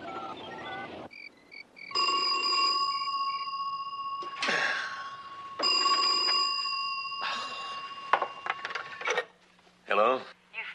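A telephone rings at night in a 1970s Wonder Woman television drama, sounding in several long bright bursts with pauses between them, while short stretches of voice and other faint room sounds fill the gaps.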